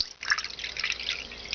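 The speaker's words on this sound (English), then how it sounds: "I'll just put a little bit of water in here" Water is poured into a container in a short, close trickle of splashing and dripping, with no talking.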